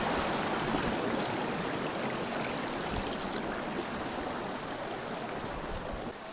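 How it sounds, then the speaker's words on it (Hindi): Damakol waterfall in the hills of Sunderpahari, Godda, pours in a steady, loud broadband rush of falling water that stays constant throughout, with no voices. "और ये झरना आप देख सकते हैं यहाँ बह रहा है"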